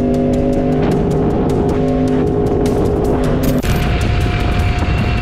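A motorcycle engine roars loudly at high speed, its pitch shifting abruptly partway through as it rushes past a car, with constant wind noise throughout.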